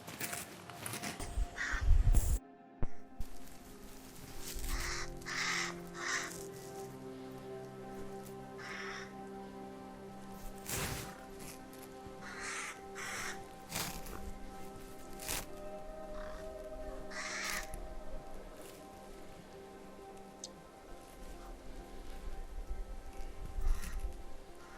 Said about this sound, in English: It's nice and quiet, and there's a lot of bird song.